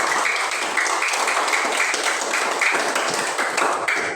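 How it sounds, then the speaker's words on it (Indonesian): Classroom applause from a group of pupils, steady rapid clapping held at an even level for several seconds, close and fairly loud with no talking over it. "Tepuk tangan untuk kita."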